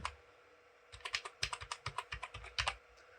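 Fingers type on a computer keyboard, entering an Aadhaar card number into an online form. The keystrokes come in a quick, uneven burst of sharp, close clicks after a short quiet lead-in, with no talk.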